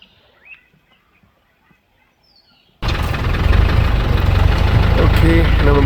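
A safari vehicle's engine idles close by, starting abruptly after near silence with only faint bird calls, then holding a loud, steady low rumble to the end.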